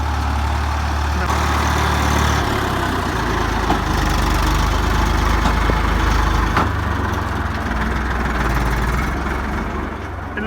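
A tractor hauling a big trolley runs its engine loudly and close by, a heavy low rumble holding steady throughout with slight shifts in pitch.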